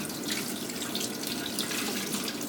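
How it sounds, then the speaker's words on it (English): Cold tap water runs steadily over cured salmon while it is rinsed, giving a continuous close splashing hiss at a moderate level, with no talking. "we're going to rinse it over cold water just to get this all off"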